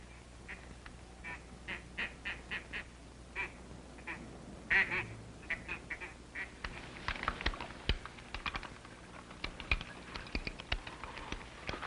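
Ducks quack in a series of short, nasal calls in a 1950s TV sitcom scene, with clicking and tapping noises growing busier toward the end.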